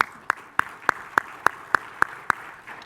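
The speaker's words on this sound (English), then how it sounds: "give them applause" Crisp claps ring out at an even, steady pace, about ten of them, sharp and close with little else around them.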